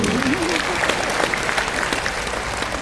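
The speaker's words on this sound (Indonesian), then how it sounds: "Tepuk tangan, betul." An audience at a Christmas-themed church gathering breaks into applause, a dense continuous wash of clapping that stays loud for about three seconds, with a brief voice near the start.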